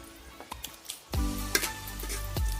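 Pieces of fried fish simmer in an Assamese khar-style curry in a pan; a few light clicks give way to a steady, close bubbling sizzle with occasional utensil knocks, and no one speaks.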